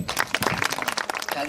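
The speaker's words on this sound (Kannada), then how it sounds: "ಅದ್ರ ಕಡೆಯಿಂದ ನಮ್ಮ ಮಕ್ಕಳಿಗೆ ಕೈ ಚಪ್ಪಾಳೆ ಕೊಡ್ರಿ" An audience gives a short burst of rapid, scattered hand claps for children at a local gathering, loud and close throughout.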